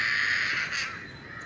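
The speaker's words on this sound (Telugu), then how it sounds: "ఇన్ని కాకులు వస్తాయి, అరుస్తూనే ఉంటాయి" Many crows caw steadily in the evening near a tree, a dense, continuous chorus of harsh calls that stays loud throughout without any speech.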